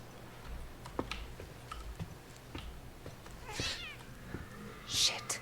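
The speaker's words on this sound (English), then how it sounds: "Oh, the cat." Cat meows from a cat in the psychic horror video game The Medium: two brief mewing calls, the second louder, over faint game ambience with soft ticking clicks.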